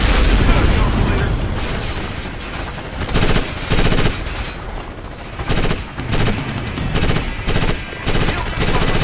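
Gunfire in Ghost Recon Advanced Warfighter: dense, loud automatic bursts and booming shots in rapid repeated volleys, with short gaps between clusters and radio-style voices calling out amid the combat.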